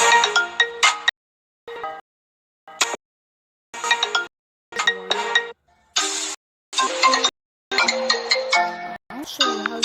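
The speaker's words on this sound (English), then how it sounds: "I'm going to show you my ringtone" A custom mobile phone ringtone plays loudly and up close in repeated melodic bursts separated by short silent gaps.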